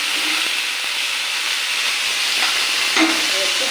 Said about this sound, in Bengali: ফ্রাই প্যানে একটু সাদা তেল আপনাদের মতো অল্প করে দেবেন।